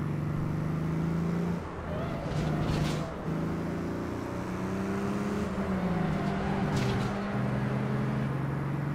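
A car in the video game APB Reloaded drives along with a steady engine drone whose pitch rises and falls as it shifts and revs, loud and continuous throughout.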